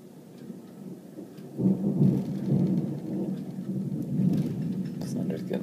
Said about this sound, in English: Thunder's getting loud.